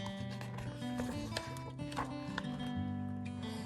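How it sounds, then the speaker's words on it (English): A horse sound effect in a children's bedtime story: hooves clip-clop in a quick, busy rhythm under light musical tones, steady and fairly close throughout. "Suddenly, he noticed the horse who lived in the barn."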